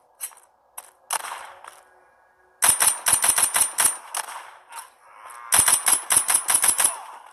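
Rapid bursts of automatic gunfire from the zombie shooter game The Walking Zombie 2, sharp crisp shots in quick volleys separated by pauses and a few single shots, loud and close.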